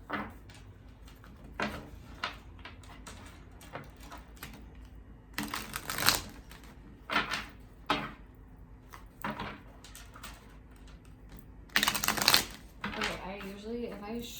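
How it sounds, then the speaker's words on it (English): Playing cards being shuffled at a table, several short riffling bursts of soft fluttering clicks spaced across the moment, close and moderately loud, with a voice talking intermittently between them. "when I shuffle the cards"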